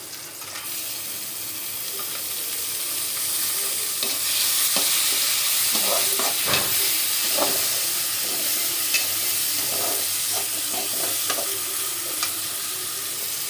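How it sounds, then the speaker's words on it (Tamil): Onion, tomato and green chillies sizzle steadily in a pan, a loud continuous frying hiss with scattered scraping stir strokes throughout, close by and without talk. "ஒரு ரெண்டு நிமிஷம் நல்லா வதங்கட்டும்"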